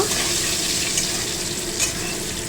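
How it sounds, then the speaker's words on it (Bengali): Potatoes frying in hot oil in a kadai for aloo dum, giving a loud, continuous hissing sizzle that stays even and close throughout, with no voices. "আমি কড়াতে আলুটা ভেজে নিলাম"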